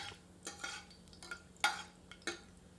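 Whole dry spices frying in hot mustard oil in a pressure cooker, quiet crackling pops and a few sharp sputters with light scraping, faint and close, without speech.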